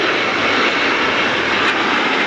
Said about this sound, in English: Just look at the airplane that's touching down right now.